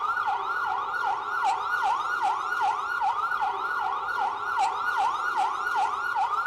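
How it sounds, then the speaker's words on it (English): An electronic ambulance siren from a mini RC sound module wails in fast, regular up-and-down sweeps, loud and steady throughout, with no voices. "Let's try the other siren."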